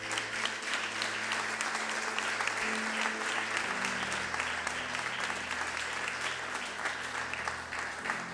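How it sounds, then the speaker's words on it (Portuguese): Church congregation applauding during a service, dense sustained clapping from a large crowd that fills the room evenly, with music sounding faintly underneath. "você pode dar um aplauso ao Senhor?"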